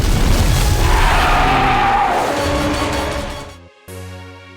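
A trap rigged inside a tunnel blows up in a loud, sustained boom that rumbles and roars for several seconds, then cuts off abruptly before a lower tone takes over.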